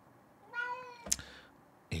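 A house cat gives one clear, drawn-out meow nearby, framed by a couple of short knocks in an otherwise quiet room.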